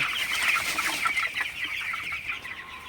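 Twenty-day-old broiler chickens cluck and chatter continuously at moderate volume, a busy flock sound with no voices over it.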